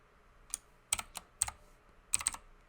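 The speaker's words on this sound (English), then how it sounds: "I'm just going to type it" Keys clack on a computer keyboard in a short, uneven burst of several taps and small clusters, close and fairly crisp, with no talking.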